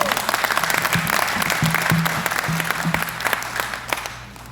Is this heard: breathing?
no